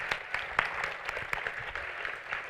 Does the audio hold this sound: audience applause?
yes